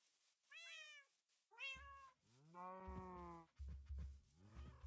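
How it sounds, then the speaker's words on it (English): Cats in the video game Minecraft meow four or five times in succession, clear, close and fairly loud, some calls drawn out and wavering, with no talking. "One more black cat over here."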